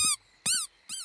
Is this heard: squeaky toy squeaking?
yes